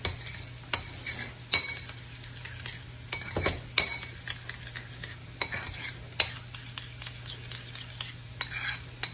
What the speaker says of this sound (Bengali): এটা মিক্স করার সময় আমি হালকা একটু দুধ মিশিয়ে নেব এর সাথে, যাতে করে ভালোভাবে মিক্স হয়।